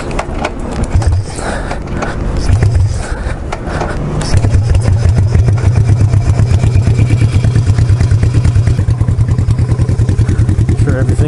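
A project engine runs just after starting, struggling on the choke, loud and close with an uneven idle that settles into a fast, steady chugging pulse midway through.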